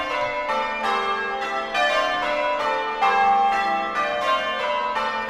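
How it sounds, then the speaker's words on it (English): Church bells ring in a continuous change-ringing peal, bright overlapping strikes following one another in steady rhythm with a rich ringing overtone haze, loud and unaccompanied by voices. "A little bit of campanology there."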